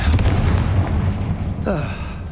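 Confringo fire-blast spell exploding in Hogwarts Legacy, a loud booming burst that rolls and fades out over a couple of seconds, heard alone without talk.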